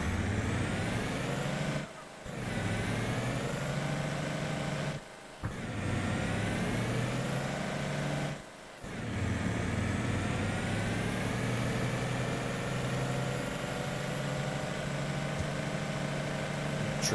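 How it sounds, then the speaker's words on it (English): A truck engine in the farming video game Farming Simulator 22 drones loudly and steadily as it revs through gear changes, with three brief dips in power between the sustained, rising pulls. "Truck seems extremely loud"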